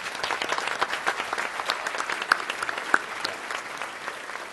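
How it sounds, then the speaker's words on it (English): A crowd applauds at a 2012 county state-of-the-county address, honoring Spaceport staff who stand to be recognized. The clapping is sustained and fairly close, with a few sharper individual claps popping out of the wash. "If you all would please stand and be recognized so we can applaud your efforts."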